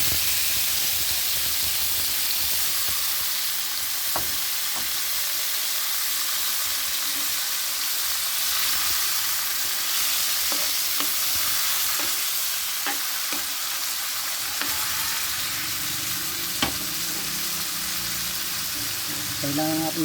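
Squid and tomatoes sautéing in a pan, a steady loud sizzle across the whole stretch with occasional stirring clinks and scrapes, close up.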